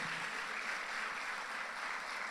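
Church congregation applauding in worship, a dense, steady wash of clapping filling the room, moderately loud and unbroken throughout.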